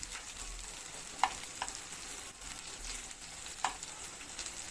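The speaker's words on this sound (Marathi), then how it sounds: "कांदा छान परतून द्यायचा आहे" Sliced onion fries in a small amount of oil for a restaurant-style matar paneer, a faint, soft sizzle with a couple of light stirring clicks, heard alone and quite quiet.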